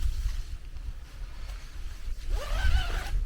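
A zipper is drawn open on the door of a Naturehike Mongar 2 tent, giving one quick rasping pull near the end after quiet outdoor ambience.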